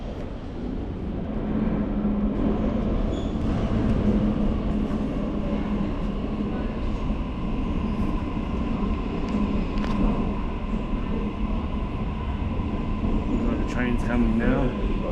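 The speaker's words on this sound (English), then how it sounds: "Train's coming now." A train arrives at the Strathfield station platform with a continuous low rumble and a faint tonal hum that holds steady throughout at moderate volume.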